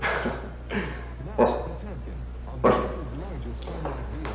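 A person mimics a dog, giving several short barking yelps spaced a second or so apart, close and fairly loud.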